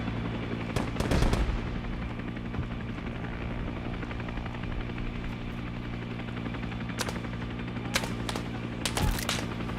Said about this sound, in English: I don't see what they're shooting at.